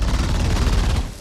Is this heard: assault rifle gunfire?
yes